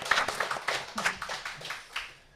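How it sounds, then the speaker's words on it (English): Brief applause from a small audience at a policy round-robin meeting in Bozeman, Montana, a sparse patter of claps that fades out within a couple of seconds. "Let's give this guy a round of applause."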